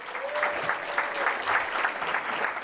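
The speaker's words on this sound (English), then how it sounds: "Let's give him a round of applause" Audience applause at a school board of education public meeting, greeting a recognized student who has just graduated. Steady, dense clapping from a room of people, moderately loud and continuous throughout.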